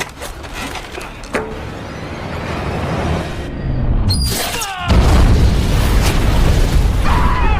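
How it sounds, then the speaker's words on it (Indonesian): A film scene of dynamite detonating inside a room, a heavy booming blast that swells into a sustained loud rumble with debris, set against a dense, busy soundtrack. "ada benda yang memicu saklar dinamit itu jatuh dan meledakkan seisi ruangan termasuk Krang di dalamnya"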